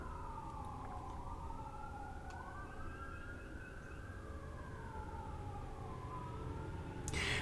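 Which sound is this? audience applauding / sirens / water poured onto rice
sirens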